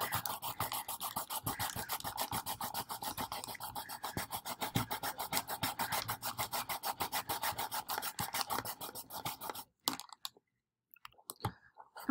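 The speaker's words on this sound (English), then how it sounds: "I'm just using my scissors. I'm opening them up and I'm just kind of sawing." Open scissors saw back and forth through a plastic water bottle, a fast, steady rasping scrape repeated for about ten seconds, close and distinct, followed by a few scattered clicks and rustles.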